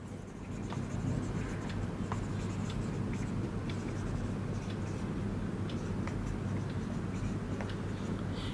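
Marker or chalk scratches across a board during a physics lesson on errors and uncertainties, a steady close run of writing strokes with occasional taps, with no voice over it.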